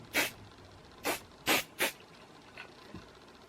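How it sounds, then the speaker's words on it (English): Four short hissing bursts of hairspray are sprayed onto hair up close, the middle two in quick succession, with a faint rustle afterward in an otherwise quiet room. "And then I'll use like this hairspray."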